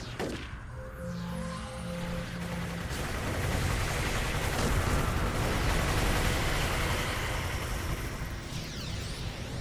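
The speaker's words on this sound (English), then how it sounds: "he can't hear all this gunfire." Sustained gunfire and explosions in a video game battle, a dense continuous roar of shots and blasts that grows louder midway and carries on without any voices.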